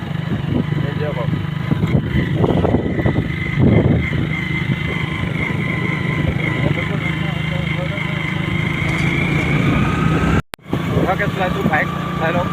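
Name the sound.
motorbike being ridden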